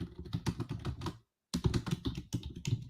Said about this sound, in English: I'm typing in our chat.